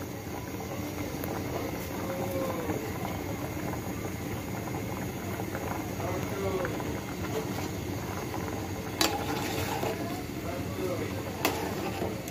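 Jackfruit seeds with their red skins boil in a pot of water, giving off a steady bubbling and hissing roar with a couple of sharper clinks near the end.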